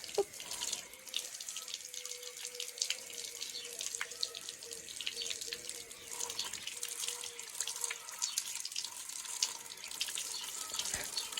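Water runs steadily from a tap while a child washes a scooter and a bicycle, a continuous hissing spray with small splashes and drips, fairly quiet and close.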